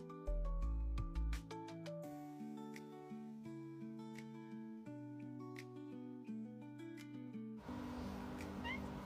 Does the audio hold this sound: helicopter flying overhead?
no